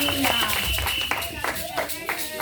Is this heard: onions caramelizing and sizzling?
no